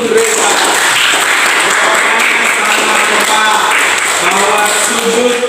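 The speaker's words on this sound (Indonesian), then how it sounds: "kasih aplaus untuk Reza" Classroom applause for a student, a group clapping steadily and evenly throughout with a voice talking over it, moderately loud and close.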